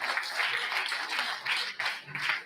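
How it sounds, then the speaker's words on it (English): Applause from an audience at a prayer day gathering, a short burst of dense clapping that swells and dips in waves, fairly distant and moderately loud, with no talk over it. "Let's give them a hand of applause."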